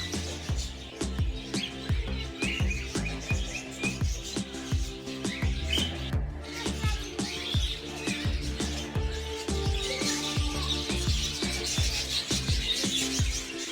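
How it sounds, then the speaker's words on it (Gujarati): Many birds chirp and tweet continuously in a park aviary holding lovebirds, budgerigars and cockatiels, a dense, busy chorus of overlapping calls close by with no talk over it. "ઘણા બધા બર્ડ છે અને ઘણો સરસ અવાજ આવી રહ્યો છે"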